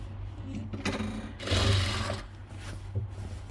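A sewing machine stitches a bedsheet in a steady mechanical whir that swells midway, with a person speaking over it.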